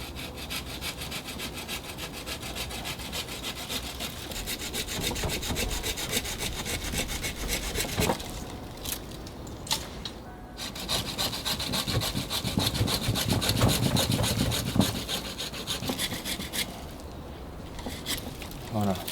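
Hand saw cutting through a branch of a collected deciduous bonsai tree, steady rasping back-and-forth strokes close by, with a couple of brief pauses, no talking.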